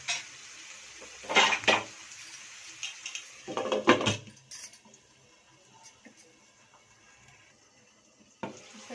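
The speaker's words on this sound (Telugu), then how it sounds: "ఉల్లిపాయలు వేగనిద్దామండి. మూత పెట్టేస్తున్నాను." Metal clatters against a cooking pot of frying onions as a lid is set on, in two short bursts of clinks and knocks. Quiet kitchen hiss fills the pauses between them, and a faint clink comes at the end.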